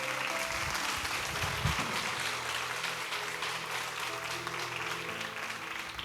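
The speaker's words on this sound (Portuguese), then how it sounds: "Vamos aplaudir o Senhor." Congregation applauding during a church service, a sustained wash of many hands clapping together, steady and fairly loud across the whole stretch with a brief low thump near the start.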